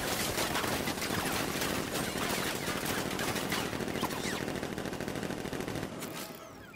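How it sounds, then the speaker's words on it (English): Sentry gun turrets in Batman: Arkham Knight fire a sustained, dense burst of rapid automatic gunfire, loud and continuous for about six seconds before cutting off abruptly. "Activate sentry guns on my mark."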